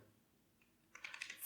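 Quick, light clicks on a computer keyboard as someone types a MongoDB query, a short flurry of keystrokes near the microphone following a near-silent moment.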